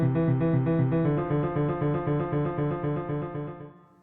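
Sparse, spaced musical notes stand for the dwindled salmon run in the Columbia River after decades of overfishing in the late 1920s. A steady, harmonic pattern rings alone without voices and fades out toward the end.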